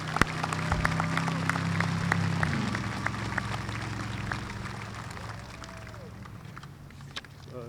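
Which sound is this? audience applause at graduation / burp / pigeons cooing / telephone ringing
audience applause at graduation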